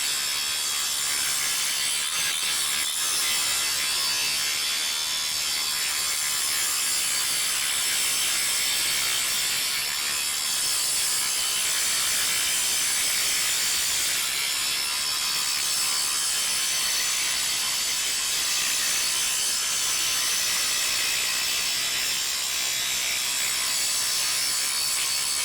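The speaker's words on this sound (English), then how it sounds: "the weight of this grinder really helps get that wheel down into the material without having to push down on it" A RIDGID 18V brushless 7-inch OCTANE angle grinder cutting through material, a loud continuous high-pitched grinding whine with abrasive rasping that holds steady for the whole stretch, close up with no talk.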